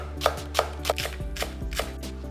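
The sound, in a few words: knife slicing spring onions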